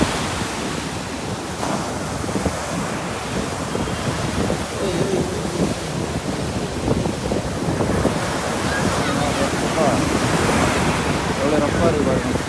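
Rough sea pounds Pattinampakkam beach in Chennai during Cyclone Fengal, a continuous loud roar of surf with wind buffeting the microphone, while someone speaks intermittently over it.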